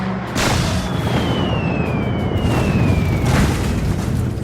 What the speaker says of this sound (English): Through early 1941, the bombing campaign intensifies.